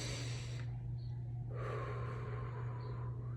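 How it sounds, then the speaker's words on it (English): Slow diaphragmatic inhalation through the nose, a soft airy sniffing rush that swells and fades twice over a steady low hum, close and quiet with no talking. "So diaphragmatic breathing is breathing through your nose."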